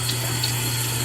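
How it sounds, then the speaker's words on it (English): Warm water runs steadily from a bathroom tap into a toothbrush cup, a constant close rushing hiss with a low hum underneath and no talking. "Let me go ahead and just put some water in this"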